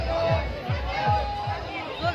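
Crowd of devotees at Bhootnath temple, a steady dense babble of many voices close around, with rhythmic low thumps underneath and no single voice standing out.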